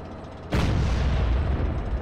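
Anti-air tank cannon fire in the Arma 3 video game, a sudden loud burst that sets off a sustained, dense roar of rapid firing after a quieter stretch.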